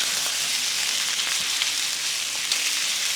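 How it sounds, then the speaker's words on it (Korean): Potatoes and minced garlic stir-fried over high heat in a pan, giving a loud, steady sizzle with occasional soft scrapes as they are turned, close and continuous with no voices. "불세기를 올려서 살짝살짝 뒤적뒤적 해주시면 됩니다. 노릇해질 때까지 볶아주세요."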